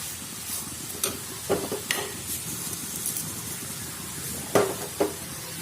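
A spoon scrapes and stirs carrot halwa with added sugar in a pan, with scattered clinks and scrapes over a soft steady hiss, close and unhurried, without talk.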